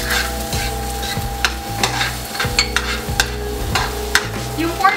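Pre-cooked pork sautés with garlic and onions in a pan, a steady close sizzle broken by repeated rhythmic scraping strokes of a spatula stirring the mix.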